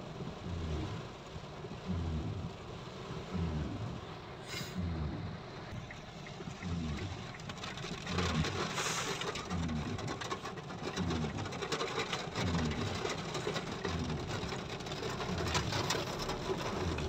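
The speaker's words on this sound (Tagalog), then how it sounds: "Maulan." Steady, heavy rain pours down in Quezon City, Philippines, a dense continuous wash that grows slightly louder midway, with a low rumbling hum and faint rhythmic mechanical pulses underneath.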